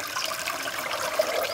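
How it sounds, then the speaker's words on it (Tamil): Dissolved tamarind water is poured while making chutney for bhel puri, a steady close splashing pour with no talk. "கரைச்ச புளி தண்ணியை"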